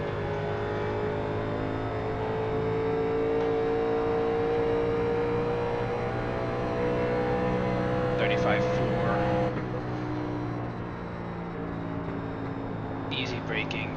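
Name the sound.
race car engine accelerating in iRacing video game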